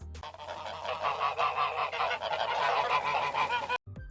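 A flock of geese honking loudly and continuously, overlapping calls close by, ending abruptly with a brief silence.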